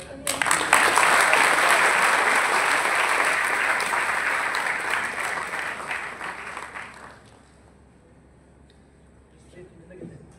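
A hall audience at a Lions Club of Karad function gives sustained applause that swells at the start, holds for several seconds, then thins and fades into faint room noise.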